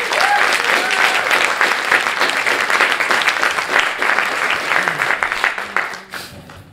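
An audience gives loud, sustained applause to welcome a speaker to a talk, with dense clapping that fades out toward the end.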